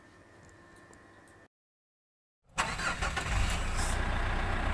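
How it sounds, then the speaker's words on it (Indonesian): Mitsubishi Pajero engine cranking to life after a brief silence, then settling into a loud, steady idle with a mechanical ticking, heard close up and alone. "Inilah karakter suara khas dari mobil Pajero itu sendiri saat kita lakukan starter ya."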